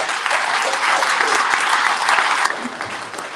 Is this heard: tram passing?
no